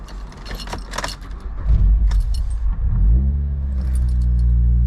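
A Mazda MX5 engine starting cold after a spark plug change: keys jangle, the starter cranks, then the engine catches and settles into a steady high idle, close and loud.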